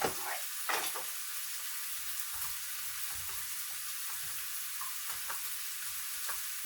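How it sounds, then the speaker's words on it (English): Halušky dumplings stirred gently with a spoon in a pot of boiling water, a steady bubbling hiss with occasional soft scraping and knocks against the pot, close and moderately loud, no talking. "So I might take a spoon and gently move them around."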